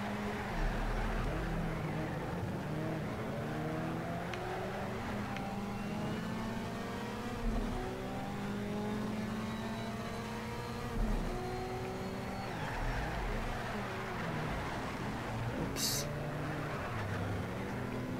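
A racing car with a tuned engine of roughly 230 hp roars steadily through a lap in Need for Speed: Shift, the loud engine note rising and falling through gear changes and revs for the whole stretch, with no talk.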